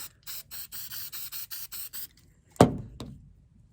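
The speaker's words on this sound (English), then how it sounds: "spray adhesive. All right, so I'm gonna just spray" A can of spray adhesive gives a run of about eight short, even spray bursts in quick rhythm, followed by a sharp knock and a second fainter tap.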